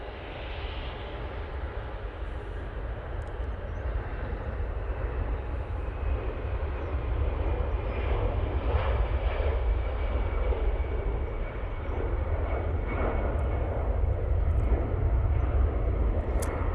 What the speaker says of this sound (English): easyJet's now on the roll, going off to Naples